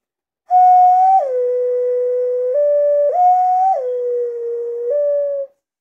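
A whistle-like instrument plays the Song of Time melody in clear, sustained tones that step between a few pitches, loud and close, with no talking.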